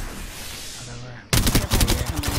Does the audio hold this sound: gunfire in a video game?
yes